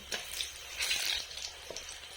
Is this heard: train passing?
no